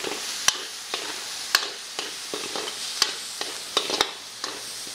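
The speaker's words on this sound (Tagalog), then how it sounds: "So, gisa-gisa lang tayo." Garlic, onion and ginger sauté in a pan for a Bicol Express-style mussel dish, a steady frying crackle broken by sharp, irregular clicks of a utensil scraping and stirring against the pan. The sound is close and there is no talk.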